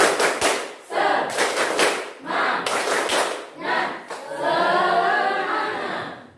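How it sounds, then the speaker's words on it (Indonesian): A group of schoolchildren stands for a rhythmic spirit clap, loud patterned bursts of clapping in repeated phrases with short pauses between, ending in a sustained chanted shout from the group. "kita melakukan tepuk semangat"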